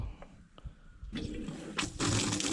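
Water rushes from an opened valve on a multipurpose sprayer tank for spraying pesticide and fertilizer. It begins as a soft trickle, then grows into a steady, louder gush that swells further near the end, with no voices.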